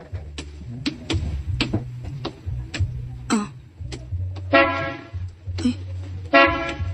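A car horn honks in a few short bursts at a gate, fairly close, among clicking and tapping noises, with a brief exclamation from a voice.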